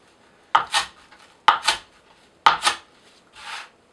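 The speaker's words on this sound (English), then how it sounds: "I have yet to have a knife that cuts this rope this efficiently." A Spyderco Tenacious knife with an 8Cr13MoV steel blade slices through 1/4-inch sisal rope in three sharp, close cuts, each a quick snap followed by a fibrous swipe, ending in a softer rub.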